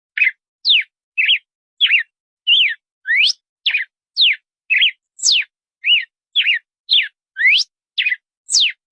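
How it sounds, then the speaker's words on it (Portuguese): A red-cowled cardinal (galo de campina) gives a long series of short, sharp whistled chirps, each a quick rising or falling sweep, evenly spaced and clear against silence. "Galo de Campina."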